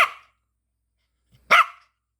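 Dogs barking: one sharp bark opens, then a gap of silence, then a second loud, close bark with a short growly tail.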